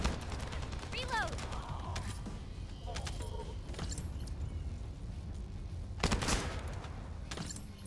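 Gunfire in The First Descendant comes as scattered bursts of sharp shots over a steady background of game noise, with a heavier volley near the end.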